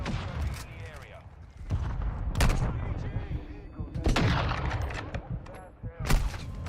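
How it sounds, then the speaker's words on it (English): A friendly mortar strike in Call of Duty Modern Warfare 2 brings heavy booming explosions and sharp gunfire bursts, several loud blasts spread across the scene, with voices talking throughout. "Friendly mortar strike inbound."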